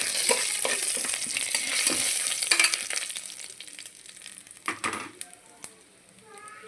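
Whole spices such as cinnamon, star anise and black cardamom frying in hot oil for fish biryani: a steady close sizzle with scattered stirring scrapes and crackles that thins out toward the end, no talking.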